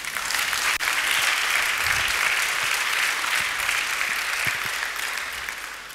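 A church congregation gathered for a Sunday service bursts into sustained, dense applause with scattered cheers, loud and steady throughout before easing slightly at the end.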